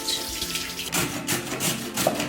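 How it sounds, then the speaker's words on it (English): Vegetables are washed under a running tap, giving a continuous close rushing splash of water for a couple of seconds with no voices. "Prepare all the vegetable. Washing it out."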